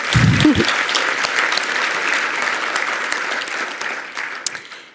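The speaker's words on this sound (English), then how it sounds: "Yes, let's clap for that." Guests applaud at a charity gala for the Les Turner ALS Foundation, a crowd clapping in a thick, even patter that rises quickly and carries on for several seconds, close and fairly loud, with a brief low bump near the start.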